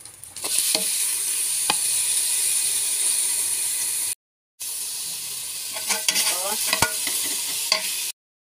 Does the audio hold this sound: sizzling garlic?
yes